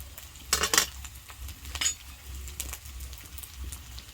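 Turmeric, chilli powder and chopped ginger fry and hiss in a kadai as a spoon scrapes and stirs them, with a couple of sharper metallic scrapes early on over a low, steady sizzle.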